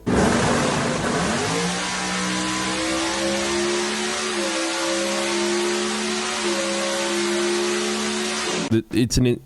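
An S550 Mustang GT with a Whipple 3.8 supercharged Coyote V8 revs loud and near, rising and holding its engine note for several seconds before cutting off abruptly in sharp bursts.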